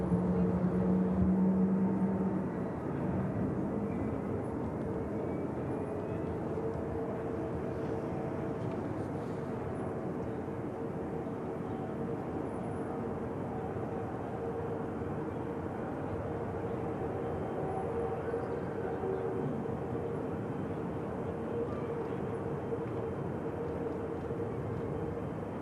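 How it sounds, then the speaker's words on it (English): A Boeing 777 starting its second engine at Manchester Airport: a steady, distant whine and rumble holding level throughout, faint and even, with no voices. "Second engine start on the triple, you can hear there."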